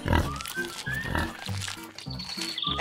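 Pigs oink and grunt on a farm in a run of close, clear calls. The grunts come in steady succession with no pauses.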